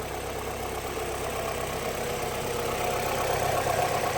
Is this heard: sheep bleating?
no